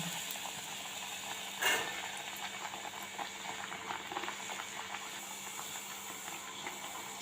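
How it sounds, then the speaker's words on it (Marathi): Hot oil bubbles and hisses steadily in a kadhai over a wood-fired clay stove, with a brief louder burst of sizzling as vada batter drops in, then a continuous crackling fry of vadas. "कढईमध्ये मस्त तेल आपलं गरम झाले आता मी वडे सोडून घेते"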